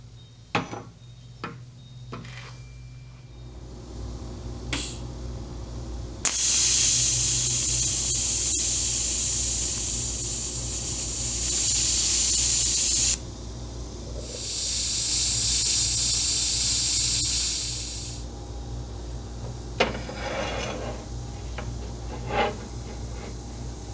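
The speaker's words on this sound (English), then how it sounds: "I got to take these bars out of the knuckle and weld them to this axle." Welding of steel bars onto a front axle for a buckboard build, with two long sustained bursts of sizzling, hissing arc noise, a loud stretch of several seconds followed by a second shorter one, between quieter shop clatter and knocks.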